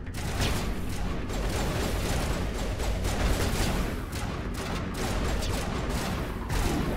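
Gunshots in the video game Mass Effect sound as a dense, continuous barrage of rapid shots, loud and close, with no talking.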